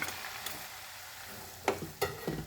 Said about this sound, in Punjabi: ਘਿਓ ਗਰਮ ਹੋ ਗਿਆ ਹੁਣ ਆਪਾਂ ਇਹਦੇ ਵਿੱਚ ਪਾ ਦਾਂਗੇ ਆਟਾ